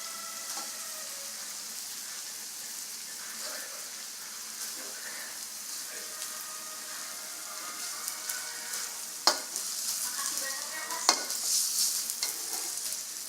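Eggs cooking in a pan, giving a soft, continuous sizzle with light stirring and scraping, plus a couple of sharper clicks from a utensil near the end.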